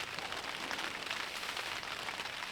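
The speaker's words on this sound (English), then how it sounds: "But at least we have cover from the rain" Steady, dense rain drumming on a tent and tarp at a campsite, a constant close hiss of drops with no pauses or talking.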